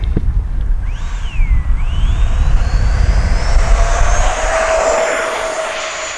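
An FMS Avanti S 70mm electric ducted-fan RC jet plane roars past in flight, its whine rising and sweeping in pitch as it moves, loud and steady outdoors with no talking.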